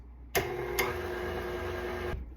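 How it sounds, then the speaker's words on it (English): A stand mixer beats strawberry cake batter with eggs at medium speed. Its steady motor whir starts abruptly, holds evenly for nearly two seconds, then cuts off, close and alone. "now I'm gonna mix this on medium speed for about two minutes"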